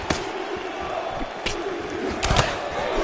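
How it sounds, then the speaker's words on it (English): A roaring boxing video game crowd fills the scene, punctuated by several sharp punch impact thuds and swelling cheers. "you can hear the crowd reaction every time he lands another hook"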